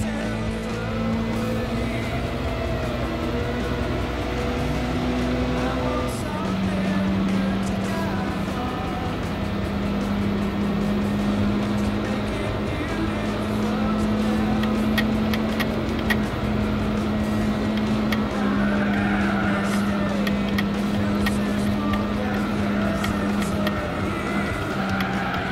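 A car engine revs and races in Gran Turismo 4 running on the AetherSX2 PS2 emulator on Android, with a steady droning tone that shifts pitch as gears change, continuous and fairly loud with no speech.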